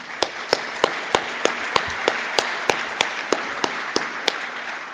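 Sparse audience applause at the opening of the Curry On 2017 conference, honoring the sponsors: a broad hiss of clapping with a steady string of sharper individual claps standing out, moderately loud and continuous, no talking.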